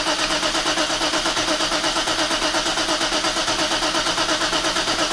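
A BMW M30 straight-six cranks and runs steadily after oil pump work, a loud continuous mechanical drone with a fast even pulse throughout and no talk over it.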